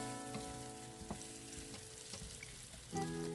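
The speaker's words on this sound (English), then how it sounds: "we just keep sauteing until it is a little soft and translucent" Vegetables cut into separated round pieces sauté in a hot pan with a steady, soft sizzle and faint scraping stirs, ending in a louder clatter near the end; no one speaks.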